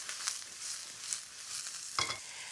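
Mushrooms tossed in a small amount of oil for a mushroom and black bean stir fry, giving a soft, steady frying hiss broken by a few sharp scraping stirs, with no talking.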